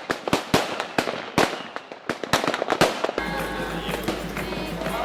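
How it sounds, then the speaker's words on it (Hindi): Children setting off firecrackers nearby: a rapid, irregular series of sharp, loud bangs and cracks for about three seconds, followed by a steadier crackling hiss with a low hum underneath. "ये बच्चे पटाखे वगैरह चला रहे होंगे"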